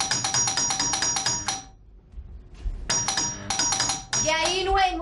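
A doorbell rings in a house, with a repeated bright electronic chime in two bursts separated by a pause. Voices and room noise follow the second burst.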